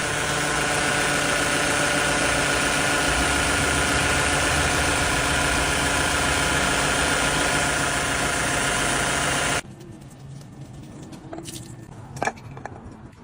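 A car engine idles loud and close after starting, holding a steady, slightly knocking drone for about nine seconds before cutting off abruptly, leaving a few faint clicks and knocks.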